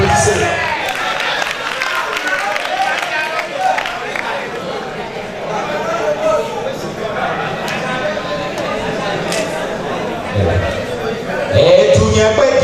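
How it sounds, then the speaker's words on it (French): A crowd at a national patriotic slam championship cheering and clapping to welcome a slam poet, a steady mid-level mix of applause and chatter with rising swells near the end and voices heard throughout. "Applaudissez-le."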